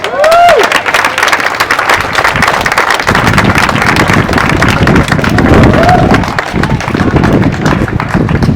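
A crowd at an outdoor Black Lives Matter rally in Albuquerque applauds loudly and steadily, dense clapping and cheering filling the whole stretch with a brief whistle-like tone near the start and again midway.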